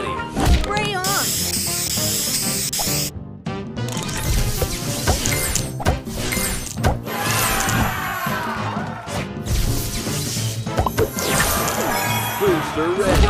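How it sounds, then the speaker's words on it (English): Spray booster effects in the mobile puzzle game Match Masters: loud hissing spray bursts and crashing hits mixed with busy game music and jingles, continuous and dense throughout. "Booster ready. Spray on."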